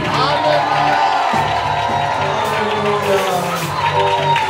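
A church congregation shouts and cheers loudly and continuously, voices overlapping into a sustained roar with rising whoops.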